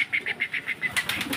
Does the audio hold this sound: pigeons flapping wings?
yes